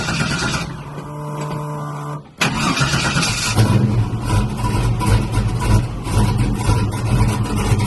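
An old classic truck engine turns over and catches, then runs loud and rough with steady revving, close by and with no talk over it.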